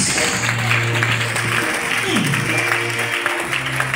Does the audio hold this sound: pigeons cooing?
no